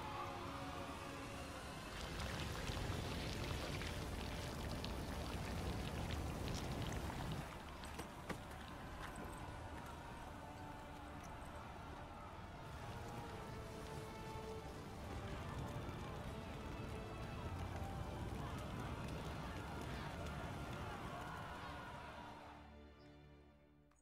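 Steady rain falls in The Witcher 3 video game, a dense wash of patter that holds for about twenty-three seconds, with faint background sounds mixed in before it cuts to near silence.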